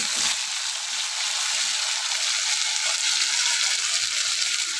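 Cumin and spices sizzle in hot oil in a village kitchen as dal is started, giving a loud, even, continuous hiss that holds steady for the whole stretch with no voices over it.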